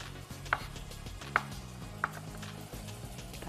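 A knife cuts through a block of Indian paneer cheese in a kitchen while Palak Paneer is being made: three sharp, separate chops spaced about a second apart over a low background hum, with no talking.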